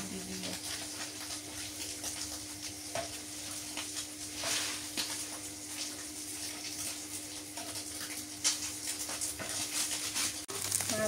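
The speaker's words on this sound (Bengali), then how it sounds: "মাছ ভাজা হয়ে গেছে" Small river fish fry in a pan with a continuous, moderate sizzle that runs throughout, with occasional stirring clatter and faint background sounds.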